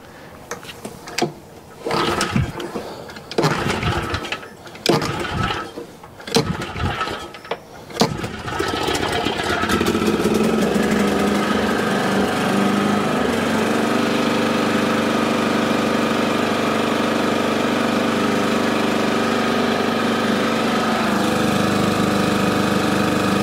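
An Exmark ECS180 mower engine, recovering from a frozen engine, sputters and coughs through several failed cranks, then catches and runs at a steady, rough idle, loud and close.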